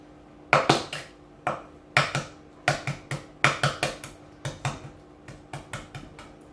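Hard-boiled eggs that have chilled in ice water are cracked and peeled by hand. A rapid series of sharp taps and cracks comes in close clusters, with no talking.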